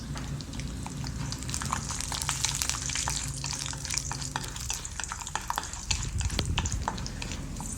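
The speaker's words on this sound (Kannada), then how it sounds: "ಅದು ಕೆಂಪಾಗೋ ತನಕ ಅದನ್ನು ಫ್ರೈ ಮಾಡ್ಕೊತಾ ಇರಬೇಕು" Avalakki bath ingredients frying in a pan while being stirred, with steady close sizzling and repeated scraping strokes of the spoon across the pan throughout.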